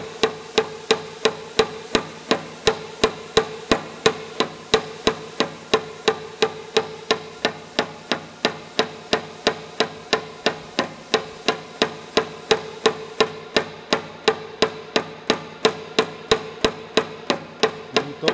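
A hammer strikes a new Astron pin again and again, each a sharp metallic blow in a fast, steady rhythm, about two or three per second, close and loud, with no voices.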